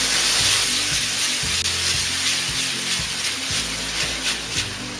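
Paneer chili frying in a pan with ketchup, chili sauce, green chili sauce and soya sauce added, a loud, continuous sizzle with faint stirring scrapes throughout.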